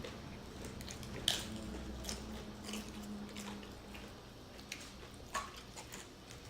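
Someone eats Dorito beef nachos at a taco mukbang, with faint close-up crunches and chewing clicks scattered irregularly over a quiet background.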